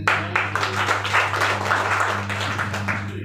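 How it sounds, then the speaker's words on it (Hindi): An audience bursts into loud applause, a dense spread of clapping hands sustained for a few seconds over a steady low hum from a hall sound system. "उनके लिए भी एक बार जोरदार ताली बजा दी जाए"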